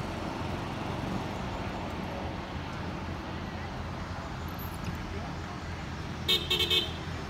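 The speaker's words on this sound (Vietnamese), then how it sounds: "ở dưới kia đang có xe lên" A steady roar of traffic on a Saigon street at night as vehicles come up the road, with a brief burst of horn toots near the end and someone talking over it.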